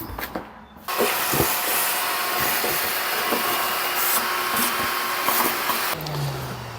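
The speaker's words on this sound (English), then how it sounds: "I'm going to take the shop vac and vacuum all this out of here" Shop vacuum sucking debris out of a 46-year-old vintage lawnmower, starting with a hollow whoosh and then a steady whine with rattling bits of debris, stopping near the end.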